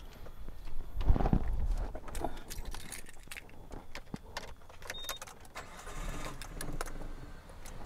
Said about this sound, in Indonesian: Kita sekarang coba untuk hidupkan mesinnya.